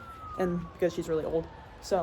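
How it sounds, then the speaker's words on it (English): A police siren wails faintly in the distance, its steady tone sliding slowly downward beneath someone talking close by, in heavy rain at a barn. "sorry about the sirens in the back."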